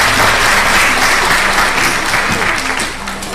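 A church congregation applauding during a family seminar session, broad sustained clapping from many hands, loud and even, easing slightly toward the end.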